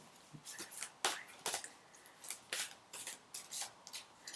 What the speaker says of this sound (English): I'm going to pull 15 cards